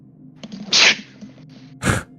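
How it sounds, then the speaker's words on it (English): A person sneezes twice in a quiet room during a tabletop role-playing session, first a loud sharp burst, then a second shorter one a second later, with faint murmuring between. "he just sneezes a little"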